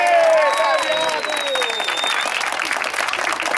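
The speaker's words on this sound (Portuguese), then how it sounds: "Pode bater palmas que ela merece e merece mesmo." Family applauding at a mother's birthday party, steady clapping from a small group under a tonal melody that fades early, continuing evenly to the end.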